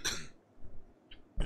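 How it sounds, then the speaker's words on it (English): A single short cough at the start, followed by quiet breathing and a small throat noise near the end. "I have a bit of a cough"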